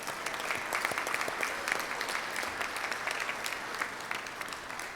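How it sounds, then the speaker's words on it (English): A room of Rotary meeting attendees applauds their executive director, a steady even roar of clapping that holds for the full stretch without a break and stays moderately loud. "Let's give Linda a round of applause"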